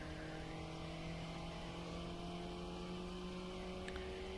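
Mini Cooper S race car at full song around Oulton Park's Lakeside, a steady sustained engine drone with rising harmonics as it accelerates, loud and continuous with no talk.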